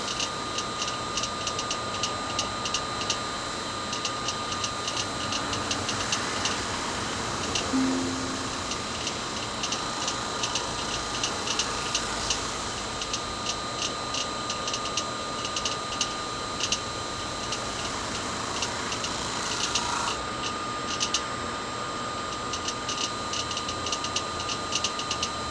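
A wood lathe turns a pignut hickory bowl at 1600 RPM, giving a steady, even hum and whir with a faint high whine and light rattle, unbroken for the whole stretch with no talking.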